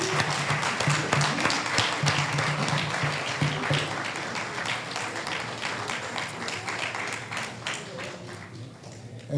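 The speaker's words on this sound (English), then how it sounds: "we all should stand and give a hearty round of applause" Sustained audience applause at a parliamentary debate event, a dense wash of clapping filling the room with some murmuring voices underneath, steady throughout and tapering slightly near the end.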